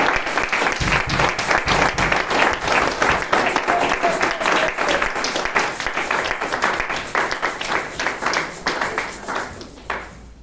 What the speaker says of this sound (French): donnons l'offrande de l'acclamation à notre Seigneur Jésus-Christ